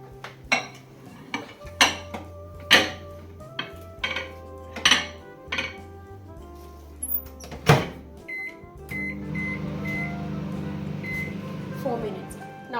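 Kitchen microwave oven heating a dish of prawn malai curry, a steady hum that starts partway through after a series of sharp clinks and taps of dishes and cutlery, with a voice speaking early on.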